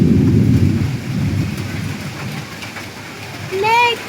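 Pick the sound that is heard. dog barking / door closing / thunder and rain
thunder and rain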